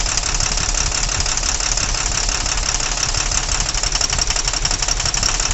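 A diesel engine idling steadily up close with one fuel injector loosened, a rough, rapid ticking knock and vibration running through it, no voices.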